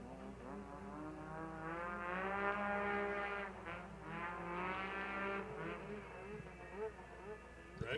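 At the World Championship Snowmobile Derby, a racing snowmobile's engine drones faintly around the track while an announcer speaks continuously over it.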